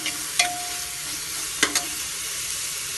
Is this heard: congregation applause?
no